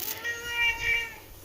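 A cat gives a single drawn-out, plaintive meow at close range, rising and falling over about a second, with faint room noise around it.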